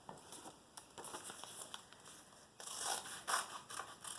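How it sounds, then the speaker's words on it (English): Scissors cut through craft material in a run of small crisp snips and crunching crackles, close and quiet, with the cutting growing busier and louder toward the end. "I'm going to go over here and I'm going to cut up."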